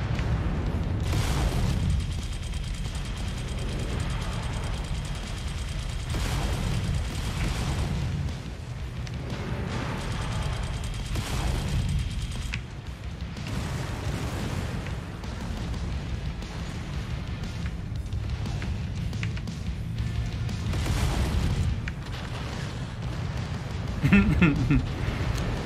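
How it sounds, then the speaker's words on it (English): Incoming missile explosions in the MechWarrior 5 video game, a continuous series of booming blasts and rumbling impacts over a heavy low-end drone, with a person talking throughout. "I like to see all those missiles coming in"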